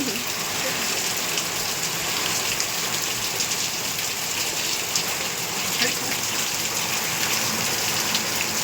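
A dense, constant wash of falling rain, loud and close, with a continuous broadband hiss and no pauses.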